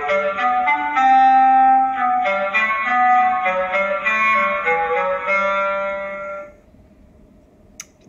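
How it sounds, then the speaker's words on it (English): Solo clarinet plays the cat's theme from Peter and the Wolf, a smooth, clear melodic line of sustained notes that rises and falls, then fades to quiet near the end with a faint click. "That is the clarinet."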